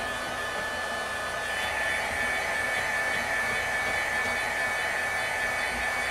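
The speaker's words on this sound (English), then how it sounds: "I'm gonna go ahead and take my heat gun to it." Heat gun blows steadily on a painted plastic tumbler with mica powder swirls, a constant loud whooshing airflow with a faint high whine, unbroken for the whole stretch and with no talking.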